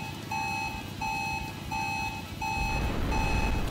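A repeating electronic beep sounds in the game Black Rock Shooter: The Game, steady evenly spaced tones about every 0.7 seconds over a rumbling vehicle-like background that swells near the end.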